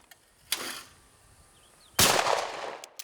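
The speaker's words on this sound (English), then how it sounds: "Like the chance to do a little skeet shooting." Two shotgun blasts during skeet shooting at clay targets on a Montana ranch, each a sharp loud crack with a short fading tail, about one and a half seconds apart, in quiet outdoor air.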